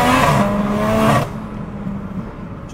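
An 880bhp BMW M140i with a big turbo accelerates hard, its engine loud and rising with a bright turbo whine before dropping off sharply to a lower rumble partway through.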